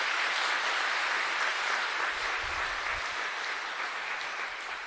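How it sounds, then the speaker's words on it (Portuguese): A church congregation at a state preaching-ministry congress applauds in a dense, sustained wash of clapping that fills the room evenly, loud at first and tapering slightly toward the end, with no voices over it. "Pode aplaudir bem forte."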